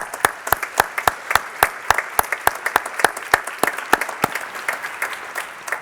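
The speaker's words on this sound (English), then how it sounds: "these people all deserve a round of applause" An audience at a ceremony honoring military veterans claps in a burst of sustained applause, sharp hand-claps overlapping steadily and fading slightly toward the end, heard alone without speech.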